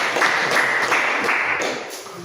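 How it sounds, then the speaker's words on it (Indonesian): An audience in a stress-management training session claps in a steady burst of applause that fades slightly toward the end. "Tepuk tangan untuk saya."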